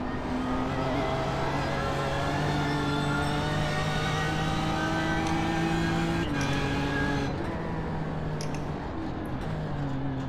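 A BMW M4 race car in iRacing at Bathurst during a 12-hour enduro, its engine droning loud and continuous with rising pitch sweeps through the gears and brief shifts, heard alone.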